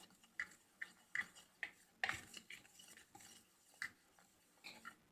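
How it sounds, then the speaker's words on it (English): A whisk taps and scrapes briskly around a bowl of flour, baking powder and salt, making light, irregular metallic clicks and swishes, close and fairly quiet, with no talking. "just whisk them all together"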